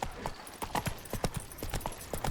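Roach, the horse in The Witcher 3, trots with quick, crisp clip-clopping hooves in an uneven rhythm, near and fairly soft, with no one speaking.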